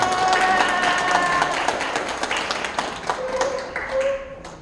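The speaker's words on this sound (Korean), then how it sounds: "박수로 모셔보겠습니다." An audience at a day care center claps to welcome a performer, a fairly loud burst of applause that gradually thins out, with a few sustained instrument-like tones sounding over it.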